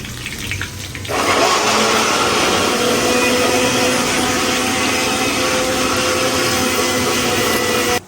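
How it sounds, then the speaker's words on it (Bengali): An electric blender whirs into action on chopped garlic and other ingredients. After a second of quiet it kicks in loud and close, then runs as a steady, harsh roar until it cuts off. "তুমি এগুলো ব্লেন্ড করো"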